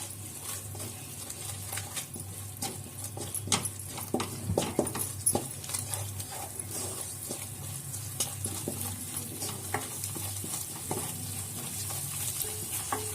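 Palak paneer gravy in a pan with half a bowl of cream (malai) stirred in, giving a low, steady sizzle with scattered scraping and spoon clinks running throughout.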